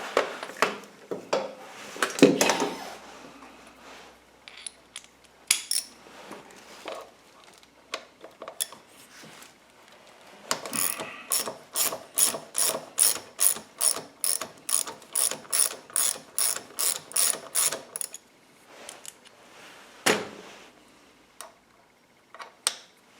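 A ratchet wrench works the wheel bolts loose on a Honda Goldwing F6B motorcycle, starting with scattered clicks and then a long, even run of rapid, close, metallic ratcheting strokes before a final isolated click.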